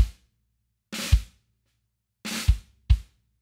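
Snare drum buzz drag rolling straight into a bass drum hit, repeated a few times with short gaps of silence between each close, punchy figure.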